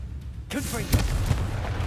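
A Confringo blasting spell explodes in Hogwarts Legacy: a sudden loud burst of blast noise with deep booming thumps rolling underneath, while a voice speaks over the impact.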